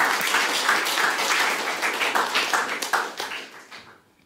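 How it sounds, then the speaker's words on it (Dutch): A warm round of applause from a lecture audience, dense and steady clapping that holds for several seconds before thinning out and fading at the end. "Geef hem een warm applaus"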